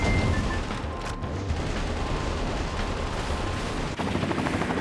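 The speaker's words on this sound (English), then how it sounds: "This ridiculous freaking gun." A huge gun in the video game Metal Wolf Chaos fires in a sustained, heavy barrage, loud booming shots blending into a continuous roar with a brief dip near the end.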